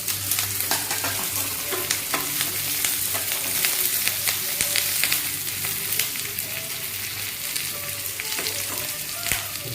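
Onions fry in a pan for a pumpkin pulimkari curry, giving a steady, close sizzle with quick crackles and pops throughout.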